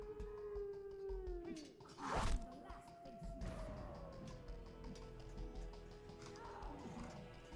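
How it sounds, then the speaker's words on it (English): A wolf lets out a loud, drawn-out howl as it is struck during a tabletop role-playing battle, with a sharp crashing hit midway and a second falling howl after, over faint background noise. "as the wolf gets hit, it lets out a loud howl"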